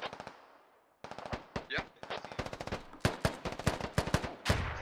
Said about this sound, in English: Elite taking shots at Gandalf, he knows